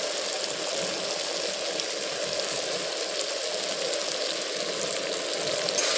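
Mango pickle with turmeric and salt frying in a pan, giving a steady, dense, fairly loud sizzle that stays even throughout with no voices.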